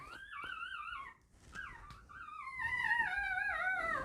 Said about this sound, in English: Also, sorry if you hear the puppies in the background.